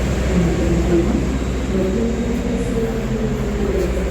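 Inside the KA Sancaka executive-class train at Jombang station, a steady low rumble and drone fill the carriage, with faint murmurs of voices beneath.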